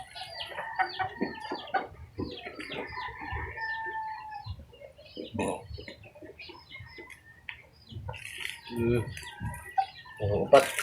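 Lemon sweater gamecocks in a cockfight give repeated clucks and sharp crowing calls in bursts, near and fairly loud, while people talk nearby.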